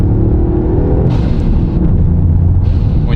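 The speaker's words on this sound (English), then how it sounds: "I love the sound of the blower valve." Turbocharged Toyota GR Yaris with its blow-off valve, a constant loud engine rumble with brief airy whooshes near the one-second and two-and-a-half-second marks.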